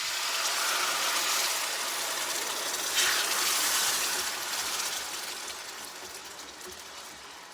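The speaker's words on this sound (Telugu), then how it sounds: "1 గ్లాస్ ఆఫ్ వాటర్ అయితే యాడ్ చేసుకుందాం." Water pours steadily into a pot of fried ingredients with a gushing, hissing rush that gradually softens toward the end.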